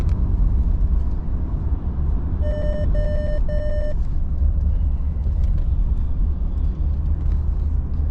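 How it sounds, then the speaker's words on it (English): Road traffic rumbles steadily past at close range, a constant low drone broken by a short run of three repeated reversing beeps from a truck. "Look at the traffic coming up here."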